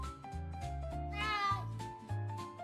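A cat meows repeatedly, close and clear, a series of drawn-out plaintive cries with brief gaps between them.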